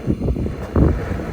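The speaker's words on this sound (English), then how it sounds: "Sound you're hearing is because of the wind." Low, blustery rumble of wind buffeting a microphone in the Alaskan bush, steady throughout with a stronger gust near the middle.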